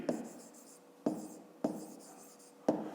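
Chalk or pen writing a fifth-grade geometry angle problem, four distinct taps each followed by short scratchy strokes, close and fairly quiet, without talk.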